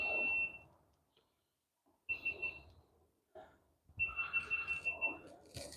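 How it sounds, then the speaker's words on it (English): High, steady electronic low-battery beeps from a GoPro action camera sound in short bursts, recurring between stretches of nearby talking in a backyard garden. "I was wondering what that beeping was. That's the GoPro I swapped out already."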